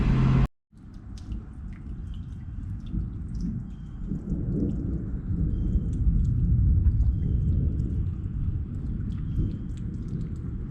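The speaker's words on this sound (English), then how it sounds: "don't know if you guys can hear that thunder" Low rumbling thunder rolls on steadily in the distance, a continuous deep grumble filling the background outdoors on a gross, stormy day.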